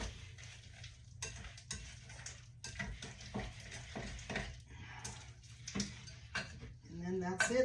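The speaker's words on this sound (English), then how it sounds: "And the vanilla. Stir it in." Spoon stirring vanilla through a hot, steaming microwave peanut brittle mixture, giving quiet irregular scrapes and clinks in a bowl with a faint sizzle beneath, steady and close throughout.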